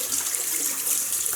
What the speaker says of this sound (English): rinse the hands